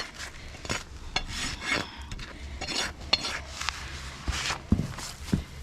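A rasp files a horse's hoof up close in short scraping strokes with irregular rhythm, fairly quiet, with small knocks and shuffles between strokes.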